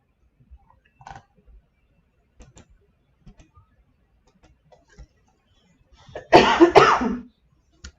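A short burst of coughing, close and fairly loud, breaks out after several seconds of near silence with faint clicks.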